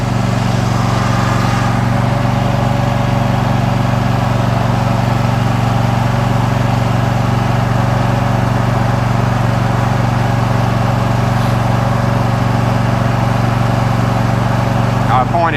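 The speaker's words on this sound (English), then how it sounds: "I got the loud lawnmower behind me." A loud riding lawn mower engine drones steadily and close throughout, a constant hum with no breaks while the machine is driven along.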